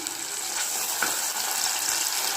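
Onion and tomato sizzle steadily in a hot pan, a continuous close frying hiss with a brief stirring scrape.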